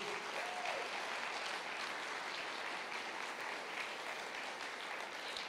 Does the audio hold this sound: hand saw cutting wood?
no